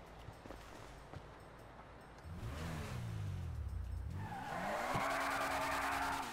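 A Ferrari sports car in GTA 5 revs and accelerates, its engine pitch sweeping down and then climbing again as tyres squeal and skid, fairly faint and with no talking.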